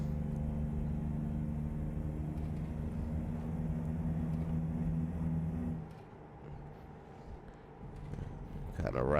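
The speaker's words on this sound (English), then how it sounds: "Kind of ride that engine brake as well" An MCI bus in American Truck Simulator rides its engine brake downhill, a low droning engine rumble that holds steady, drops off partway through, then builds again near the end.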